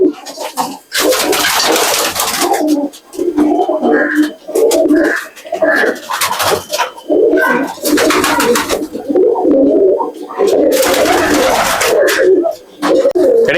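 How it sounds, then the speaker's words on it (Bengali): Old-generation Madrasi pigeons in a loft give a long run of close, resonant coos that rise and fall in overlapping bursts, broken by loud flapping wings and rustling movement. "এটা আমার অনেক পুরনো পায়রা।"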